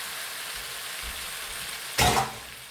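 Kung pao chicken with peanuts and vegetables cooks in a pan, giving a steady low sizzle with a brief louder burst of frying near the end, likely as food is stirred or added.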